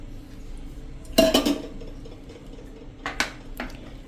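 Pizza dough ingredients, wheat flour with yogurt and oil, stirred in a bowl, heard as a few sharp clinks and scrapes of a utensil against the bowl in two short bursts over quiet background.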